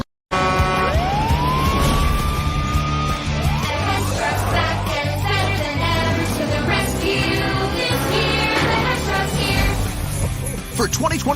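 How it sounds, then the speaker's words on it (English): A toy Hess Police Truck and Cruiser's realistic siren winds up into a loud electronic wail, followed by rapid yelping and warbling siren patterns that continue for several seconds, with music and other sound mixed in beneath. "it's the Hess Police Truck and Cruiser with realistic sirens"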